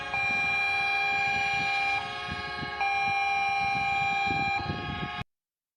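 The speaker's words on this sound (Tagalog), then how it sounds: "A synchronized horn salute there," Ship horns sound in a synchronized salute by the Philippine Coast Guard station in Western Bohol for the 10th anniversary of the arbitral ruling, a steady layered tone held for about five seconds, shifting slightly partway through, then cutting off.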